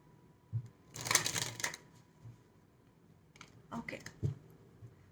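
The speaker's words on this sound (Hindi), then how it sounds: "एक और शफल कर लेते हैं" Tarot cards being shuffled by hand in two brisk bursts of close, soft riffling and rustling, with quiet pauses before and between.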